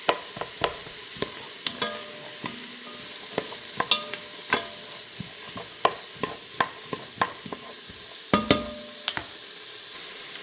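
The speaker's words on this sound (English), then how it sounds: "Just about time to add the celery and the carrots. I'm just going to saute those a little bit too." Celery and carrots sauté in butter in a pan for a ham chowder, a steady soft sizzle broken by frequent sharp clicks and scrapes of a utensil stirring, close and continuous without talk.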